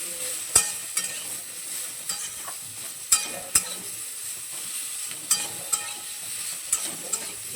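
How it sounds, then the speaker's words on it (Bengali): Chopped vegetables with salt and turmeric stirred in a pan for a spinach curry, a soft continuous sizzle broken by sharp, irregular scrapes and clacks of the spoon against the pan, close up with no talking. "নুন হলুদটা খুব ভালোভাবে মিশিয়ে নেবো"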